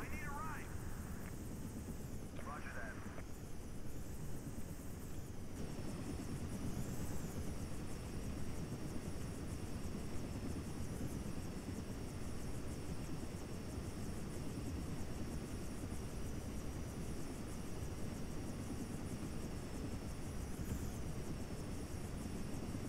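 Helicopter in the Battlefield 2 AIX mod game, a steady loud rotor and engine drone throughout with a constant whine above, while a person talks over it.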